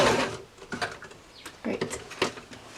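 A sewing machine stitches and backstitches a coat seam, giving short bursts of rapid mechanical whirring and clatter close by, broken by brief pauses.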